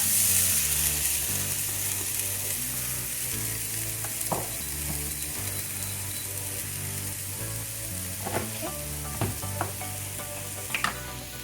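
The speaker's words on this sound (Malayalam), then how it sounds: "എണ്ണ ചൂടാവുമ്പോൾ ഇതിലേക്ക് 1 കപ്പ് തേങ്ങ" Grated coconut frying in hot oil for a roasted-coconut chicken curry, a steady close sizzle throughout with occasional sharp clinks of a spoon stirring against the pan, no talking.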